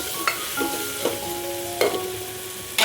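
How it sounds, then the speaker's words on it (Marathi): A spoon stirs cashew chicken masala with whole spices in a hot pan, giving several sharp scraping strokes over a steady close sizzle, with no talking. "छान असं आपल्याला फिरवून घ्यायचंय."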